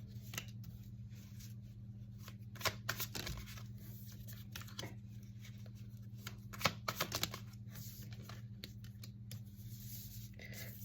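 A tarot card deck is shuffled by hand with soft riffling and flicking bursts over a steady low background hum.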